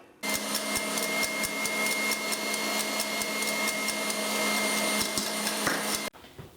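An electric mixer beats egg whites with sugar for a gluten-free chocolate cake, a steady loud whirring drone with light rattling, running continuously for about six seconds before cutting off abruptly.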